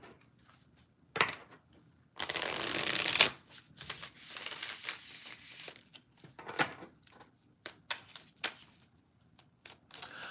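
Tarot cards being shuffled close by, a riffling burst followed by softer slides and taps of the deck, with quiet gaps between.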